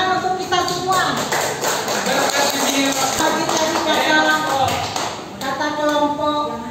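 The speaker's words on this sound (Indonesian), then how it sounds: "Ya, tepuk tangan untuk kita semua." Pupils in a classroom give a round of applause, a scattered patter of claps and taps that runs for several seconds while children and adults talk over it.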